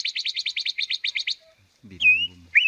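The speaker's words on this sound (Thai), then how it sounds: "เปิดเสียงตัวนกกระรองทองนะห้องตอบอยู่เบิ่งนะพุ่น" A played recording of a golden nok kra rong thong bird call. A rapid, even trill of about a dozen bright chirps is followed by a brief low voice-like sound and then two clear, sliding whistled notes.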